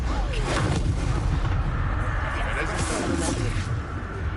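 A Bombarda spell explodes in Hogwarts Legacy under heavy, continuous booming battle noise with a deep, loud low-end rumble. Spoken spell lines and dialogue come over the blasts.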